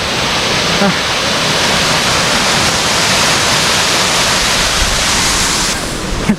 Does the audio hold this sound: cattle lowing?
no